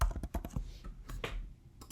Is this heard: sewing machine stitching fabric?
no